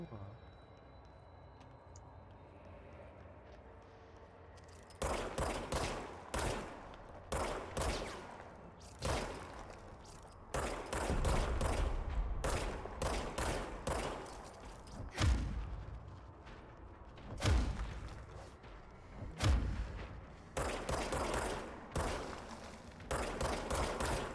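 Bursts of service weapon fire in the Control video game, with the first five seconds quiet before a run of loud, sharp shots in irregular clusters of single rounds and rapid volleys, broken by short pauses.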